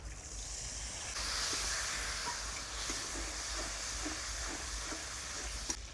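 Water poured onto ginger-garlic paste, chili powder and turmeric frying for a Bengali chicken curry sets off a steady, hissing sizzle that carries on at an even level.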